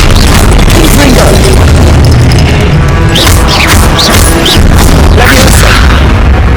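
Confringo blasting spells explode repeatedly during a loud Hogwarts Legacy battle, heavy booms and crashes piling up in a constant roar with a voice shouting spell names over the din.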